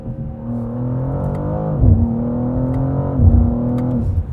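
A sports car engine revs with the exhaust off, a steady droning tone that dips and climbs again twice as the revs shift, loud and close with no talking.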